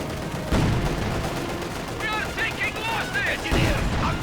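Machine gun fire rattles in a WWII strategy video game as Soviet T-34 tanks and German grenadiers clash. Rapid bursts repeat under a commentator's excited talk.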